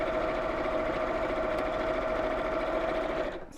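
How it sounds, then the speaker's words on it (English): Steady whirring of a sewing machine stitching along the edge of a canvas tote bag with a flap, running continuously up close before slowing to a stop at the end. "I'm literally going to sew all the way down the edge, and we do that with both pieces"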